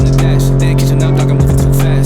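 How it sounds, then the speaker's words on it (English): A Toyota JZX100 Mark II's exhaust rumbles loud and steady at idle, a deep, even drone with a slight bump partway through and no voices over it. "That's a nice exhaust."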